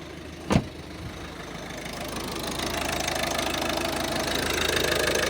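A 2012 Ford Focus 1.6 TDCi diesel catches after a fuel filter change and settles into a steady idle, with a sharp knock at the start and a low, even engine drone that grows slightly louder.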